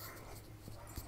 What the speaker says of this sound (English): some dogs are unhappy right now